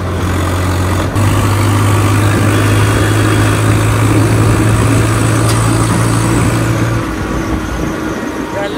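A tractor engine runs with a steady low drone and rumble, close and continuous, with a faint voice in the background.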